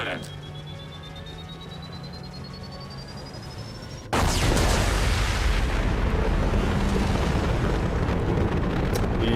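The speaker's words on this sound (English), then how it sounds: "Explosion imminent." An explosion in the video game Mass Effect 2 bursts in abruptly and loudly, then rumbles and crackles densely for several seconds, with quieter game sounds before it.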